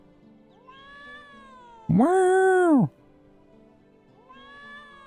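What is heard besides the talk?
cat meowing in the video game Trials of Mana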